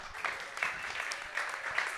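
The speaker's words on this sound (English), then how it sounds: "let's clap it up for that" A crowd applauds steadily, a dense, even patter of many hands clapping at once with no voices over it.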